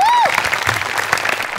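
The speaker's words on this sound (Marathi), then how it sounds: "सो तुझ्या प्रयत्नांसाठी एकदा टाळ्या व्हायला." A studio audience at a Marathi comedy show bursts into loud, dense applause that fills the room, following a brief musical tone at the start.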